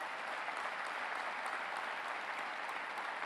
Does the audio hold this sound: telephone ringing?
no